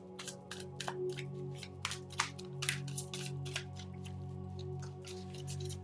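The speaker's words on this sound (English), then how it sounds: "I'll give these a couple of shuffles now" Tarot and oracle cards being shuffled by hand: soft, irregular riffling and slapping sounds in short bursts, close and quiet, over a steady low background hum, with no talking.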